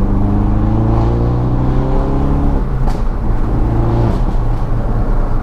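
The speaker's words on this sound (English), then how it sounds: "the exhaust just completely opens up and it sounds like an animal." A car with a Scorpion valved exhaust revs and accelerates, the tone climbing through several rising sweeps before the throttle lifts, loud and close with no talk.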